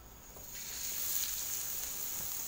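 Rice flour batter frying in hot oil, a steady bright sizzle that swells after the first half second and holds loud and even to the end, with no talk over it.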